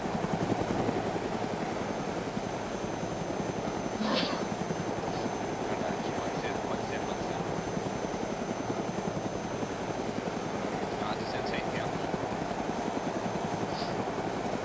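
A military helicopter in the video game Arma 2 produces a steady, loud rotor thump and engine drone throughout, while people talk over the radio.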